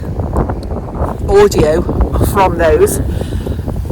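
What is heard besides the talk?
wind blowing at an allotment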